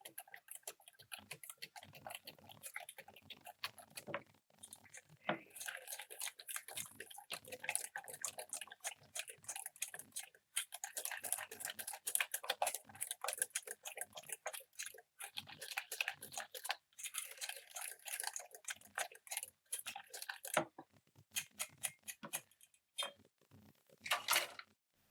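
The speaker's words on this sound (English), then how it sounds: "Now we whisk all these ingredients together." Crab cake ingredients and egg being whisked together in a bowl, a steady run of quick, light clicking and tapping strokes with brief pauses, close and fairly quiet, no talking.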